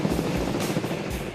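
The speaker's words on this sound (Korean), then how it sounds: "헬기가 낮은 곳으로 하강하면서 일으키는 강력한 바람은 지면과 충돌하는데" A helicopter hovers low over a mountain trail site near the sea, its rotor downwash roaring as a loud, buffeting wind rush with pulsing gusts and deep rumble.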